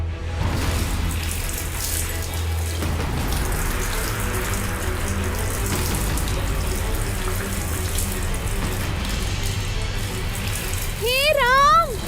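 A tap runs with water gushing steadily into a sink indoors, a continuous splashing wash beneath voices talking over it, with a brief musical sting near the end.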